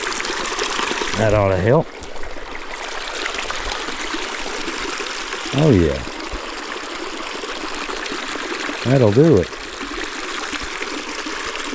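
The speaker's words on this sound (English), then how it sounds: "See the muddy water run out." Muddy water from a big mud puddle drains away after a hurricane, giving a continuous trickling, gushing flow up close, with someone talking briefly three times over it.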